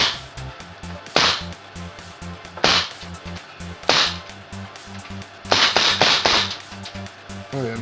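A chrome Tokyo Marui Desert Eagle airsoft pistol is test-fired, giving about six sharp, loud cracks at uneven intervals, the last few in quick succession, over a low background hum.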